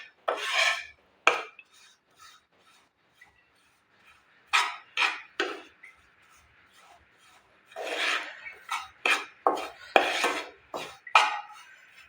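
A spoon scrapes and rubs repeatedly around a pan as an atta peda mixture of wheat flour and milk powder is stirred off the heat. The scraping comes close and clear in short irregular strokes, some separated by pauses.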